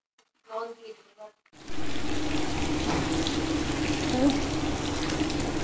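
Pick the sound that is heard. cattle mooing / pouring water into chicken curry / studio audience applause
pouring water into chicken curry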